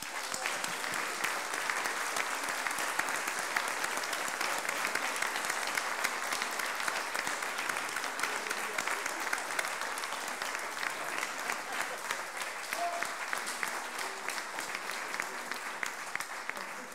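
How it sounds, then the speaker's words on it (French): Steady, prolonged applause from an audience at an award ceremony, fairly soft and distant, holding at an even level throughout with a faint murmur of crowd underneath. "j'accueille avec un tonnerre d'applaudissements partagé"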